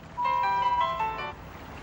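A mobile phone ringtone plays a short electronic melody of bright, sustained tones for about a second, standing out clearly over a quiet room hum before fading away.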